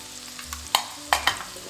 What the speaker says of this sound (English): you're gonna allow your tofu to sear for a good 4 minutes.